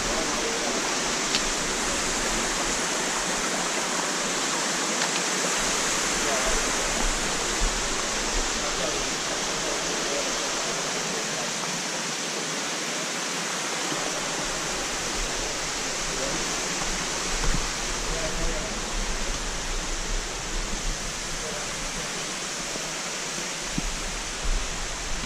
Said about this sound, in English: So this is Tenerife Falls, just before the trail goes straight up to the summit.